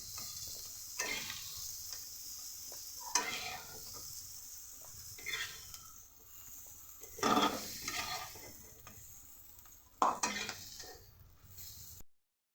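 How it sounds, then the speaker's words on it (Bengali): Jackfruit seeds fry in a pan with a soft, steady sizzle, broken by a few louder stirring scrapes and clinks of a spatula against the pan. No one speaks. "ভালো করে ভেজে নেব।"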